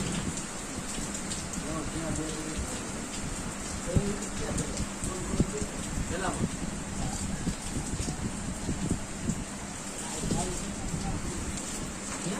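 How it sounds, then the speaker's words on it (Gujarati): Steady monsoon rain patters on surfaces in Bhavnagar district, Gujarat, with occasional soft rumbles of thunder, while a voice speaks over the downpour. "ગાજવીજ સાથે વરસાદ જોવા મળ્યો"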